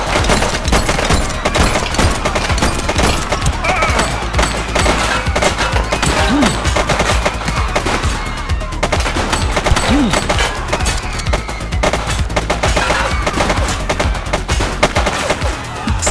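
Dense, continuous gunfire rings out in the police game The Precinct as a suspect shoots, loud rapid bursts packed together with no break, and shouting voices mixed in.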